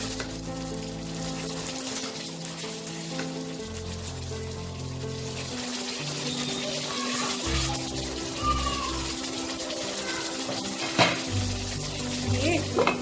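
A spice paste of turmeric and salt fries in oil for a Bengali boal fish curry, giving a continuous close sizzle with occasional stirring scrapes and clinks throughout.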